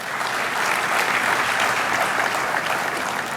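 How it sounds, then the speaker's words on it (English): An audience at an inaugural ceremony for a foundation program gives a round of applause, a steady, dense patter of many hands clapping at moderate volume for the whole stretch. "So can we have a big round of applause for everyone?"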